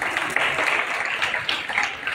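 Audience applause for a student's elocution speech at a Lokmanya Tilak death anniversary and Annabhau Sathe birth anniversary event; steady, dense clapping from a crowd lasting the whole stretch, fairly close and moderately loud.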